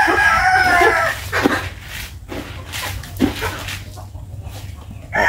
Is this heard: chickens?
yes